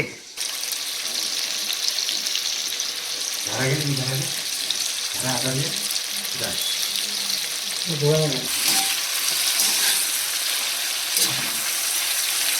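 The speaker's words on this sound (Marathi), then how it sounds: "आम्ही चिकन लिव्हर आणलं होतं आम्ही ते तवा फ्राय करतोय" Chicken liver coated in masala frying on a tawa, a steady broadband sizzle running throughout at close range, with a voice speaking intermittently over it.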